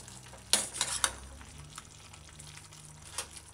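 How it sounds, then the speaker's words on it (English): Chopped sweet pepper goes into a chicken callaloo stew and is stirred in, giving a few sharp scraping clatters of a spoon in the pot near the start over a soft, low sizzle. "add your chopped sweet pepper, and the sweet pepper is optional, along with the pepper"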